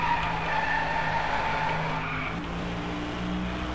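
A car skids with sustained tire squeal in the racing game Driveclub, the engine droning beneath a continuous loud screech that holds steady throughout.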